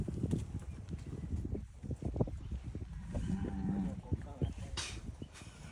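A bull moos low and faint beneath a noisy outdoor crowd at a rural bullfight, with people talking, movement and scuffling around it.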